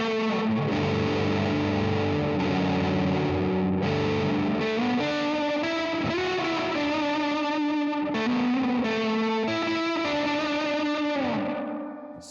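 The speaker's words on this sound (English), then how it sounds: "So with the reverb into distortion, this is what it sounds like." Electric guitar run through a reverb pedal into a distortion pedal on a first pedalboard: thick, sustained distorted chords ring out loud and steady with no talk, then fade at the end.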